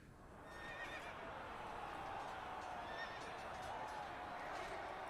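Horses in the Evony game neigh in faint, distant whinnies over a dense, steady wash of massed hoofbeats and battle noise that continues throughout.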